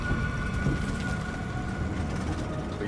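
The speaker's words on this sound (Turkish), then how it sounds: "Yağmur mu yağıyor?" Rain in Death Stranding makes a dense, steady wash of noise with a low rumble underneath, continuous and fairly loud over the short stretch, with no voices.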